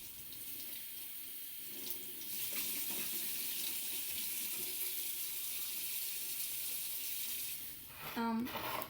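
Canned Mexican-style three beans rinsed under a running kitchen tap, a steady, close hiss of water pouring into a sink that continues for several seconds and ends with a brief gurgling splash.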